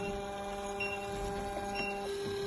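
A manual defibrillator's built-in printer runs after a shock is delivered, giving a faint, steady mechanical whir with a constant tonal hum and small clicks throughout, with no voices.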